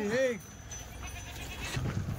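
A single Kathiawari goat bleats clearly at the start, followed by a quieter outdoor background with faint voices.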